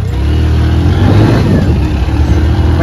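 A motorbike being kicked into life and revved, the engine close and loud, rising in a brief throaty burst before settling into a rough running note.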